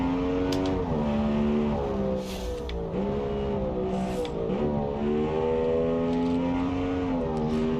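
Race car engine screaming up Pikes Peak in a BeamNG driving game, loud and close, rising and falling through gear changes with sharp revving, short bursts of tire noise and brief throttle lifts.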